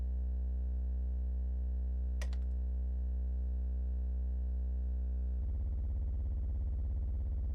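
A steady synthesized tone from a Roland JV-1080 patched with a Eurorack modular system holds a rich harmonic drone, with a brief click midway, then shifts abruptly into a buzzier, pulsing FM-modulated timbre for the last couple of seconds.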